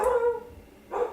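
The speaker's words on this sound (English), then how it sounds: "Oh, the dogs are barking." Dogs bark indoors, a couple of short yaps close by and moderately loud, with a brief pause between them.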